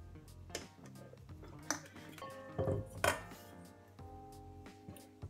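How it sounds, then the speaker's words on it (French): Petit beurre biscuits being broken up in a kitchen for a cheesecake base, heard as scattered clinks and knocks of dishes and utensils with brief sharper impacts, fairly quiet and without talk. "je vais émietter le petit beurre, donc les biscuits."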